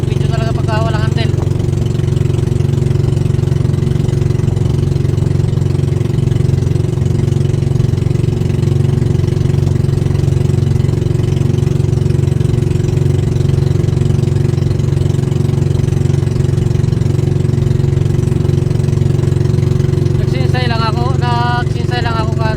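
A motorcycle engine running rough at idle, its uneven low throb steady and loud up close for the whole stretch, with brief bursts of talk near the start and end.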